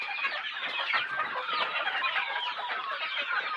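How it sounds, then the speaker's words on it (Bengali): A flock of desi hens on a farm clucks and chatters continuously, many overlapping birds close by at a steady moderate volume, with no human voices. "আমার এই দেশি মুরগির মধ্যে একটা ফার্মি মুরগি থাকতে পারে"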